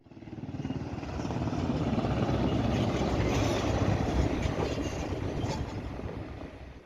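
Firefighting helicopters flying over a forest fire in Çine, a loud continuous rotor and engine roar that swells in and fades slightly, with no voices.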